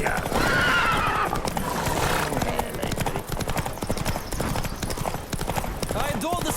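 Horses gallop in a race in The Witcher 3: Wild Hunt, with steady rapid hoofbeats, a whinny near the start and rushing motion throughout, loud and close under a rider's shout.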